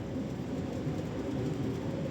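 Rain turning to sleet at about 1.5 degrees during a snowstorm in Norway, a dense, steady hiss of precipitation with a low rumble beneath, unbroken and without talk.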